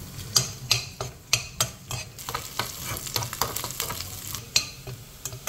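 Garlic frying in a pan while being stirred, a steady sizzle under repeated scraping and clinking of a metal spoon against the pan at an uneven rhythm, close and moderately quiet, no talking.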